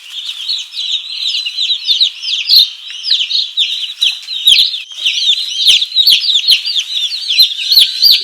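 Forty newly arrived Freedom Ranger chicks peep constantly in a brooder, a dense, loud chorus of high overlapping cheeps close by with no pauses.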